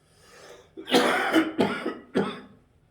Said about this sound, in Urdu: یہ جو مجھے کھانسی آ رہی ہے